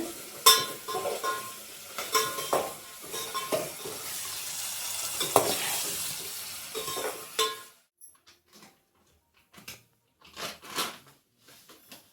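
Upma made with semolina is stirred and fried in a pan, with scraping spoon strokes and clinks over a sizzling hiss, then quieter intermittent scrapes after the frying noise drops away.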